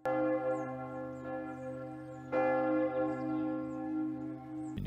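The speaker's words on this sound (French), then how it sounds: "Oui, c'est la sonnerie des morts." A church bell tolls a death knell, with deep, sustained strokes that ring out and decay slowly, a fresh strike landing about halfway through, heard alone and fairly distant.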